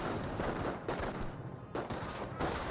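Gunfire pours from a garrison window during a Company of Heroes battle, a dense crackle of rifle and machine-gun shots that keeps up with small dips throughout, fairly distant and steady.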